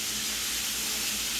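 Shrimp seasoned for Southern shrimp and grits cooking in a pan, giving a steady, even sizzle and hiss that holds unchanged for the whole short stretch with no talking.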